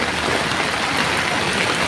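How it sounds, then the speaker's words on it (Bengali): Heavy rain pours steadily in flooded Sunamganj, a dense, even wash of noise that fills the moment with no voices. "বৃহস্পতিবার সন্ধ্যার পর থেকে একাধারে মুষলধারে বৃষ্টি হচ্ছে"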